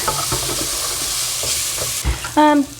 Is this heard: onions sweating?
yes